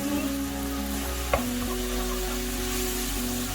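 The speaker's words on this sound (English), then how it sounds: "Give it a mix." A shepherd's pie mince mixture with tomato puree is stirred in a hot pan, giving a continuous sizzle under a steady hum, with one brief scrape of the spoon partway through.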